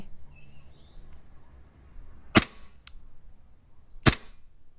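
An airsoft Hi-capa fitted with an M1911 slide and barrel, firing on light gas: two sharp, loud snapping shots about two seconds apart, with a faint click between them and a few birds chirping softly early on.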